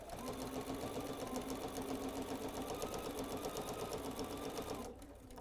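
A sewing machine stitches a jelly roll rug in a fast, steady mechanical patter that runs evenly and then stops abruptly near the end, close and clear.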